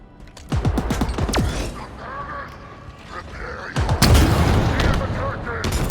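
Rocket launcher and cinder shot weapons firing in the Halo Infinite video game, a rapid volley of sharp booming shots followed by heavy explosive blasts, with game effects and voices mixed underneath.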